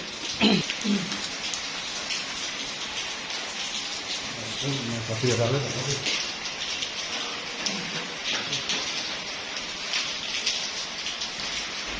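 Steady hiss of rain falling on a surface, continuous and fairly soft, with a few brief voices and faint noises over it.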